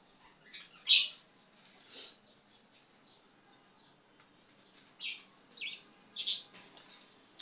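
Pet birds kept at home give short, scattered chirps and calls, a few sharp bursts separated by quiet gaps, fairly close and soft.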